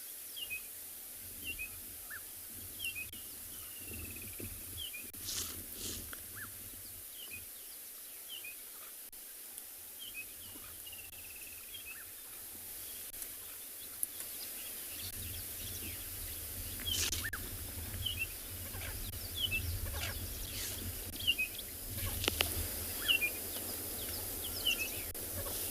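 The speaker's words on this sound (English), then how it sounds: "Birds have started to make noises all around us." Birds call at sunrise on a safari at Tswalu, scattered chirps and short tweets from several directions over a faint steady hiss of insects, with the wider outdoor rumble growing louder later.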